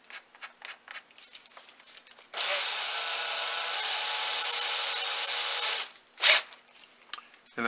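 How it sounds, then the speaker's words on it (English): A power drill bores a hole for about three and a half seconds, a loud, steady, close whirring grind, preceded by soft handling taps and followed by a short burst and a clunk. "So now I'll drill my hole"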